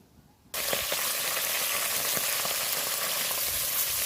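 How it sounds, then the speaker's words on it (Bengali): Fish frying in hot oil in a pan over a wood-fired stove bursts into a loud, steady sizzle after a brief quiet moment, with crackles and pops continuing close by. "মাছগুলো আমি ভালোভাবে উল্টে পাল্টে ভেজে নেব"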